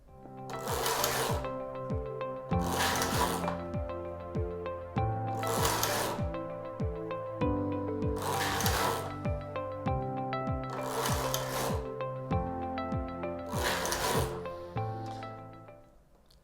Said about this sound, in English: I check that all my latches are open and I take my carriage across